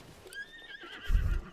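A horse in Zelda: Tears of the Kingdom gives a short whinny with quavering high tones, followed by a low thump of movement, faint and close.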